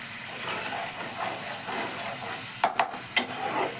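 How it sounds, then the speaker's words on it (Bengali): Spice paste with salt and sugar frying in a pan for a vegetarian bottle gourd and potato dum: a steady soft sizzle and hiss, broken near the end by a few sharp crackling pops. "এবার 2-4 মিনিট একটু এই মশলাটাকে আমি কষে নেব"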